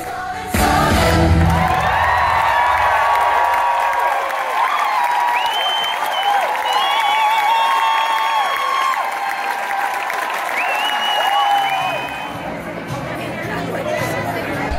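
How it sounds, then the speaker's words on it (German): A theatre audience at the London premiere of MJ The Musical breaks into sustained, loud applause mixed with whoops and shrill whistles, fading somewhat near the end. "Applaus."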